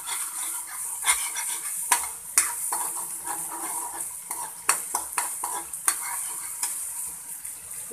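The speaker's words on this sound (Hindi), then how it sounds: "देखिए मसाला भुन रहा है।" Spice masala frying in oil in a pan for a mung dal bada curry: a steady, soft sizzle with frequent clinks and scrapes of a spoon stirring against the pan.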